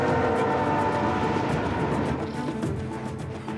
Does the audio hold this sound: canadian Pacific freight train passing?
yes